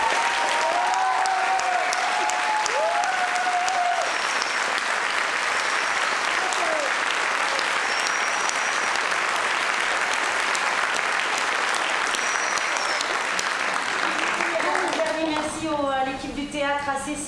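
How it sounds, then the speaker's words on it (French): A theatre audience gives sustained, dense applause after a stage show, with whistles and cheers threading through the clapping and spoken voices over the clapping near the end. "on peut applaudir Louis"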